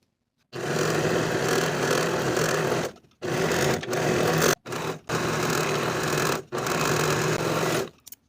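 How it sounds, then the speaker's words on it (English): A serger overlocks the notched edge of a skirt piece, running in loud, steady bursts of whirring stitching with several brief pauses between runs. "I'm going to finish the notched edge using my serger"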